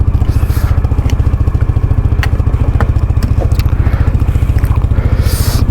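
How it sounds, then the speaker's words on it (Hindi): A motorcycle engine runs steadily after a cold start, its loud, even, rapid thumping pulse close by and continuous throughout. "ये रही हमारी बाइक, इसको कर दिया हमने कोल्ड स्टार्ट।"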